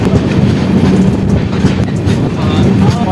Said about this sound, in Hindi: ट्रेन हमारी अराइवल हो रही है लहरिया सराय रेलवे स्टेशन।